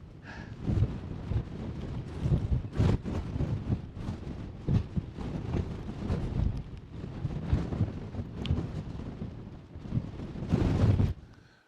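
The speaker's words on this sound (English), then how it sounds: "And those winds, that's 30 km/h according to the mountain weather forecast." Strong mountain wind on Harter Fell in the Lake District, buffeting the microphone in heavy, gusting roars that rise and fall throughout, with no talking.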